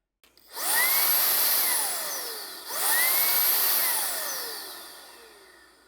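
Makita 40V cordless dust blower AS001GZ spins up twice, each time ramping to a high whine with a rushing airflow, then slowly winding down, close and loud with no talk.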